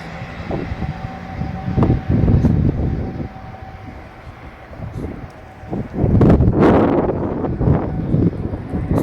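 Cold, biting wind gusts across an outdoor spot where a truck camper is parked, a steady broadband rush that surges louder in the second half, with faint voices underneath.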